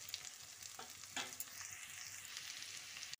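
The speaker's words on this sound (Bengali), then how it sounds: "ক্যাপসিকামটা দিয়ে আরও খানিকক্ষণ ভেজে নেব।" Cauliflower and capsicum fry in a pan with a steady, fairly quiet sizzle that runs throughout, and brief scraping stirs rise above it now and then. No voices are heard.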